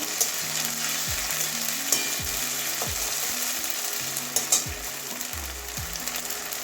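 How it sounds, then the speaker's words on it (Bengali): Ginger garlic paste sizzles steadily in hot oil, a close, continuous frying hiss broken by occasional stirring clicks and light knocks of a utensil against the pan. "এবারে আদা রসুনের পেস্টটা একটা আমার দিয়ে দিচ্ছি এটাও কাঁচা গন্ধ যাওয়া পর্যন্ত ভাজবো"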